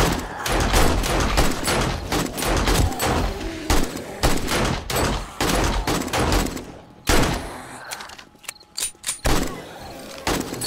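Loud, rapid volleys of gunfire from the survival game 7 Days to Die during a blood moon horde night repeat in dense bursts, then thin out into sparser, scattered shots toward the end.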